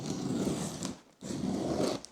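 A parcel being unboxed up close, with two long scraping, tearing passes of cardboard and packing material separated by a brief pause.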